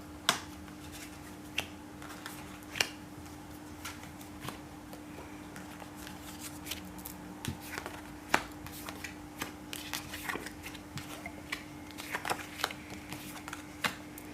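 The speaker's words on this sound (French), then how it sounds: "Je coupe le paquet en deux, je choisis celui-ci." A tarot deck is cut in two and cards are laid out on a table, giving soft, scattered card slaps and flicks at an irregular pace, close and fairly quiet over a steady background hum.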